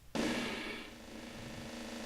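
A timpani roll in an orchestral boss-theme arrangement starts with a sudden hard strike, then carries on as a sustained, rumbling roll that gradually softens, resonant and close with no voices.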